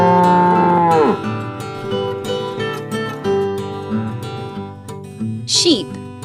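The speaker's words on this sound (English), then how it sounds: "Cow." A cow moos loudly in a long, drawn-out call, with a second shorter low from cattle near the end, all over a bright, busy children's music track.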